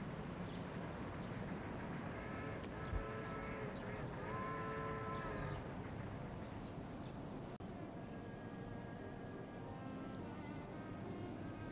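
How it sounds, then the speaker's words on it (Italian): Train bound for Detroit passing in an old colour drama film, a steady rumble with tonal whistle-like hums rising and falling, continuous and moderately distant, no talking. "Il treno per Detroit. È sempre in orario."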